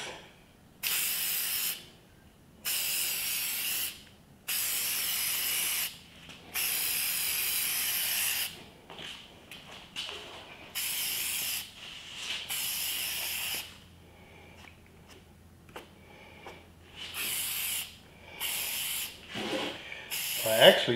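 A spray can coats a Corvette C8 engine cover in repeated close hissing bursts of a second or two each, separated by short pauses, with a few softer sprays and faint handling noises toward the end.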